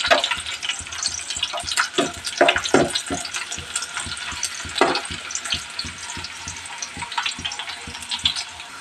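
Onions frying in a pan until they turn reddish, a steady close sizzle with occasional stirring scrapes and soft clatters running throughout, no voices.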